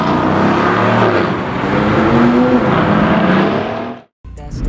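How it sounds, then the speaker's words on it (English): An Aston Martin Vantage F1 Edition, one of only 50 built, revs and roars loudly up close with a rising engine note, cutting off abruptly before a brief return; a voice may be faintly present. "Aston Martin F1 edition."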